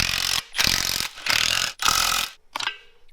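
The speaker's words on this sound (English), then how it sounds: "once I start tightening these all these bolts down" Power tool, likely an impact wrench, run in three sustained bursts with short gaps while bolts are tightened on a truck's clutch pressure plate, loud and close, followed by a brief fainter burst.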